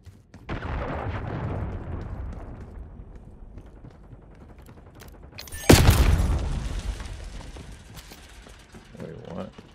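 A Semtex grenade goes off in a Black Ops 6 multiplayer match, a single sharp, loud blast with a rumbling tail, surrounded by low battle noise.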